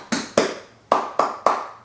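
Hands clap five times, sharp and close, in a loose uneven rhythm. Each clap is a bright snap with a short decay, and nothing else is heard between them.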